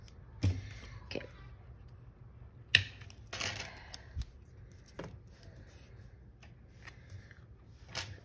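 Scissors cutting planner paper, heard as a few soft snips and paper rustles over quiet background noise, with one sharper snip standing out.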